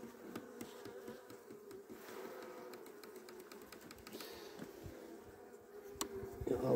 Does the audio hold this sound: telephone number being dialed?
no